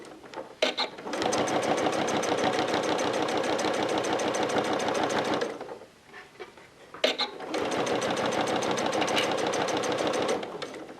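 A sewing machine stitches a waterproof bib fitted with an adjustable bias binding foot, running in two long steady bursts of rapid needle clatter separated by a short pause, close and loud with no talk.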